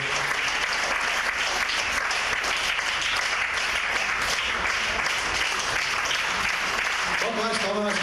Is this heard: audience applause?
yes